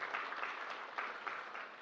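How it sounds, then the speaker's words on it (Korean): Congregation applauding during a Sunday morning church service, a steady, fairly soft wash of clapping from a room of people lasting the whole moment without a break. "박수하겠습니다"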